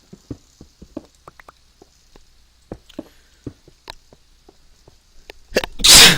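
A single loud, close sneeze from a person with spring allergies bursts out at the end, after a run of soft, irregular clicking taps during a Minecraft game session.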